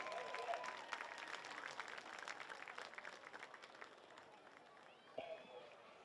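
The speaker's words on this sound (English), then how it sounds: "please give her a round of applause." Scattered clapping and cheering from a crowd at a high school homecoming football game's hall of fame ceremony, moderately faint and distant, fading after a few seconds with a brief voice near the end.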